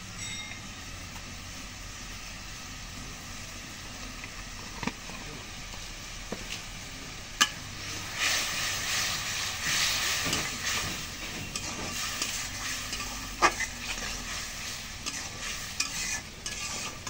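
Spices with turmeric sauté in a pan, giving a steady soft sizzle with intermittent scraping and clinks of stirring, while a voice talks now and then.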